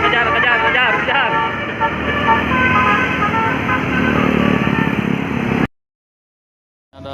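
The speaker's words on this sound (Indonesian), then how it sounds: "Ada truk berat lagi nih mau" A heavy truck strains up a steep uphill road at Tanjakan Cipeundeuy, its engine droning loudly alongside other passing vehicles and honks before the sound cuts out abruptly.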